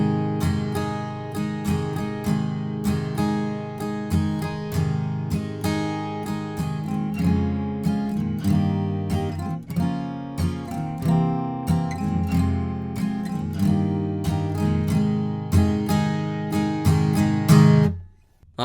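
Acoustic guitar strummed through the instrumental section of a song from Aladdin in a full, steady strumming pattern with dense, ringing chords, loud and close with no talking.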